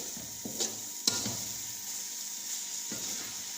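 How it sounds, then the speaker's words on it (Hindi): Carrot halwa roasts in ghee in a pan, giving a steady close sizzle marked by a couple of sharp stirring scrapes, with no talking. "अभी मैं 5 मिनट इसकी और भुनाई करूँगी"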